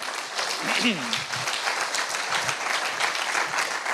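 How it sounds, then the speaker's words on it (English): A church congregation claps and applauds throughout a worship service, steady dense clapping filling the room while a voice briefly rises in a sung or spoken exclamation early on. "Let's clap big for the Lord Christ."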